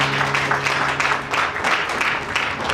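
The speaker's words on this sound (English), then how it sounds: "Clap your hand for Jesus" A church congregation claps for Jesus in a brief, dense burst of hand claps with a rhythmic pulse, steady and moderately loud, with a low sustained tone underneath.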